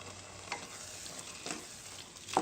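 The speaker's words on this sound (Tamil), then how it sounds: "சேர்த்துட்டு இதையும் நல்லா கலந்து விட்டுடலாம்" Mint pulao ingredients sizzle quietly in a pan while being stirred, with a soft frying hiss and three distinct scraping strokes of a spoon against the pan.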